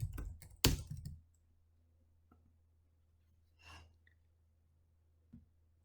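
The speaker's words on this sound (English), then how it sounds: "go to the search bar here and type in Fresno" A quick burst of computer keyboard typing sounds close up, then isolated soft keystrokes and a faint breath follow in near silence.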